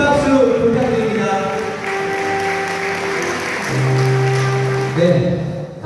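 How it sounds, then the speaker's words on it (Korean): Wedding guests applaud at a ceremony as the mothers of the couple enter, the clapping spread through the hall beneath sustained music. "여러분 큰 박수 부탁드립니다."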